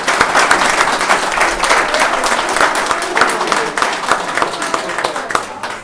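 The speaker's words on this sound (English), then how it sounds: "And can we give a round of applause to all veterans?" Dense, sustained round of applause honoring veterans at a county board of commissioners meeting, many hands clapping close by with a few voices mixed in.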